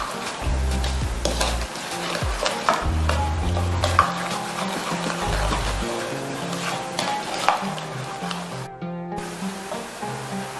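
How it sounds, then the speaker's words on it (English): Brownie batter with melted milk chocolate is stirred in a bowl, giving a steady wet scraping and sloshing that runs throughout at moderate level, with occasional utensil clinks and a low musical bed underneath. "When done, add the melted milk chocolate and mix."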